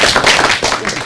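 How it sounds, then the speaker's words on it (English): Brief burst of clapping from a small group at a university start-up pitch competition, dense and close for about a second. "Let's give everyone a round of applause."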